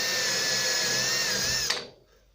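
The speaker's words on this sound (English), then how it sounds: "I just drill through until I see dirt start showing up in the" A power drill whines steadily at high speed as it bores through the steel fender of a 1948 Ford F1 truck, loud and close, then cuts off abruptly near the end, leaving near silence.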